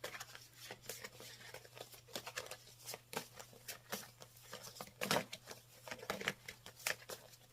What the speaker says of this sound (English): Just going to shuffle these around.